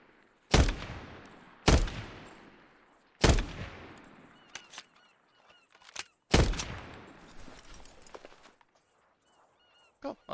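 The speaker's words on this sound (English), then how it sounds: "Firing range practice." Gunshots ring out at a firing range in the video game ARMA: four loud, sharp reports spaced about a second and a half apart, each with a long decaying echo, followed by quieter clicks and a few faint shots.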